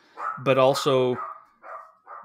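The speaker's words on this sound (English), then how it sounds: "sorry about my dog, everybody" A pet dog barks indoors in a short, loud burst of two or three harmonic barks, followed by a couple of fainter yips, with a person talking around it.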